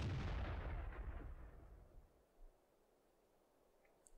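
Artillery fire in World of Tanks, a single loud booming blast at the start that rolls and fades away over a few seconds, with a faint thump afterward.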